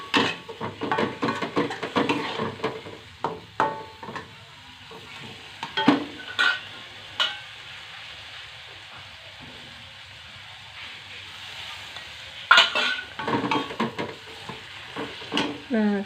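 Vegetables stir-fried in a wok with a splash of water over low heat give a soft, continuous sizzle broken by irregular scraping and clinking strokes of a utensil against the pan, close and moderately loud, no talk.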